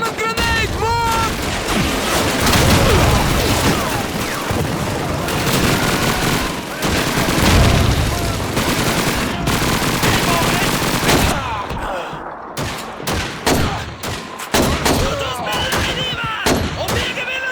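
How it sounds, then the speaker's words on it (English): MG-42 machine gun fire in a Call of Duty 2 battle rattles in long, loud continuous bursts mixed with other gunfire, followed by sparser scattered shots, while soldiers shout over the din. "It's an MG-42!"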